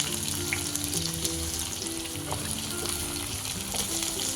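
Onion pieces fry on a low flame, a soft sizzle under clinks and scrapes as they are stirred, close and moderately loud with no talk.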